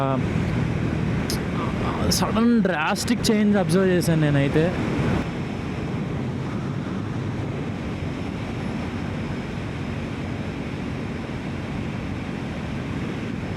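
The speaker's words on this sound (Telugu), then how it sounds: "సో అంత విండ్ ఫ్లో ఉంది ఇక్కడ." Strong wind roars steadily into the microphone on a Triumph Speed 400 motorcycle ride, a constant broadband rush, with someone talking briefly near the start.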